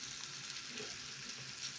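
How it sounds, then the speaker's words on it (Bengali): Radish greens sizzling in olive oil with salt and green chillies, a quiet, even, continuous frying hiss with faint stirring texture and no speech. "আমি মূলার শাক ভাজছি"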